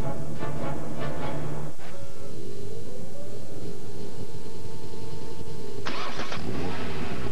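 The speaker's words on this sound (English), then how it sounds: "This is the sound of a car engine." A car engine cranks and catches, then settles into a steady mid-pitched running note with a rising whine, ending in a sudden burst of louder sound near the end.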